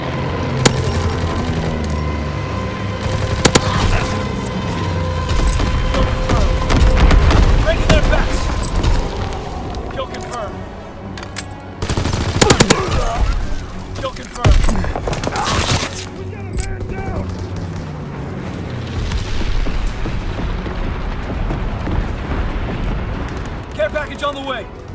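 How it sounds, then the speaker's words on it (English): Heavy rumbling explosions and rolling blasts from a low-altitude bombing run in Call of Duty WWII on the winter Carentan map, loud and continuous with sharp booming peaks, mixed with a radio-style announcer voice and battle noise. "Low altitude bombing run underway."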